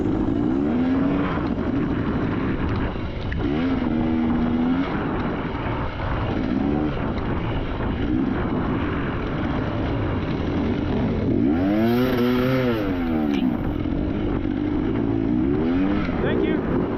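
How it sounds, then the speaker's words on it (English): A crippled KTM dirt bike's engine drones continuously while riding through sand dunes during a scramble race, with revs rising and falling several times under steady wind-buffeted noise, while a voice talks over it. "We're still rolling through the dunes on the crippled KTM, though."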